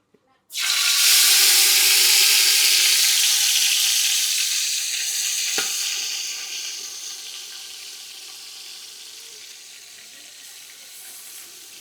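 Marinated mutton hits hot oil with spices for village-style dum biryani, bursting into a loud hissing sizzle that stays close and gradually settles into a softer steady fry.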